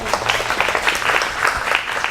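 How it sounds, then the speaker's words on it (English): A staff audience applauds at an all-hands thank-you meeting, a short burst of dense, even clapping from a modest crowd that holds steady for about two seconds. "you deserve a round of applause for that"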